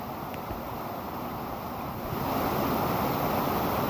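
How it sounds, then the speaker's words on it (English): A waterfall on a freezing winter hike roars as a dense, steady rush of falling water, broadband and continuous, swelling slightly louder partway through with no voices. "As you can hear, I'm at a waterfall."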